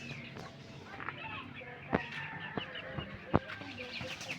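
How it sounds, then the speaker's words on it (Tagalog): Chickens cluck and squawk in a busy farmyard, with several sharp calls standing out over a steady background of birds and a voice. "Dami naming manok dyan, guys, oh."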